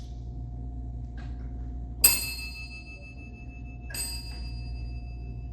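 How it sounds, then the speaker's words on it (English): A ship's bell tolls at a naval memorial ceremony, two bright metallic strikes about two seconds apart ringing out and decaying over a low steady hum in an otherwise quiet hall. "The toll of ship's bell reminds us of the reverence we owe our departed shipmates."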